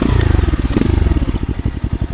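Motorcycle engine idling low and loud up close, a lumpy uneven chugging pulse that slows and stumbles as it bogs.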